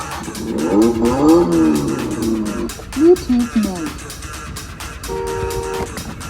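A child's ride-on electric drift car is switched on and driven; a steady electric whine rises near the end, while voices and talk dominate the first part.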